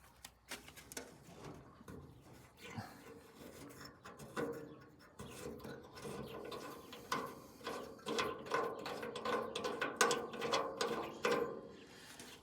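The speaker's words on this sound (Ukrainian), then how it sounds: "Вкручуємо стопора, стопорні болти і отак опускаємо." A wrench tightens stop bolts while a Forshtritt E517 straw chopper is mounted on a Niva SK-5 combine. Irregular rasping, ratcheting strokes grow busier and louder over time, close by and without speech.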